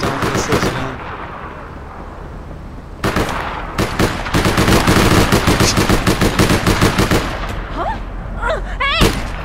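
Rapid automatic gunfire from APB Reloaded, long loud bursts of metallic shots rattling in fast rhythm, starting briefly, pausing, then resuming in sustained volleys, with a few whistling game effects near the end.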